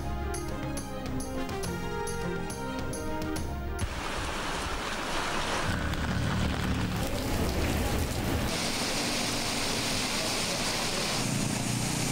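Heavy stormy rain pours steadily in the Koh-e-Suleman hills, a dense, loud hiss that shifts in texture and swells partway through, with no voices.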